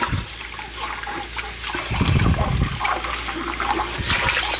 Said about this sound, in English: I'm going to add a little bit of water to that with my olive oil